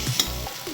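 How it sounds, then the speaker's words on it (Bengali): Potato and pointed gourd frying in a pan, a short burst of sizzling with a clink of stirring, close and steady, no talking. "এবার আমি একটুখানি এটাকে ভালো করে ভাজা ভাজা করে নেবো বন্ধুরা।"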